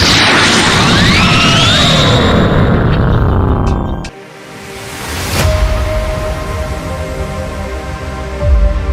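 A Dragon Ball Final Flash energy blast: a loud, sustained roaring wave with rising whistling sweeps that cuts off abruptly, followed by a single sharp crack and a lingering rumbling hum.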